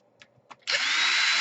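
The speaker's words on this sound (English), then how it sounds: "So here we want to put in 2 long screws right here." Power screwdriver drives a long screw into an Asus X200L laptop case, a couple of faint taps and then a sudden steady whirring drill sound running to the end.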